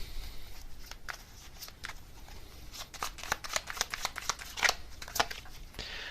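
Tarot cards shuffled by hand close up, a run of crisp riffling and slapping card sounds, sparse at first and then a denser burst of quick flicks.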